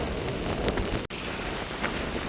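Heavy rain pours steadily on a coastal area in Jaffna during a low-pressure storm, a dense continuous hiss close by with faint wind and no talking.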